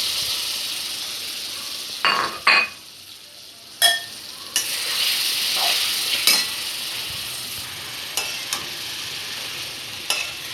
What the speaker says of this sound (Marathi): त्यावर मी आता कैरीच्या मीठ लावलेल्या फोडी टाकणार आहे।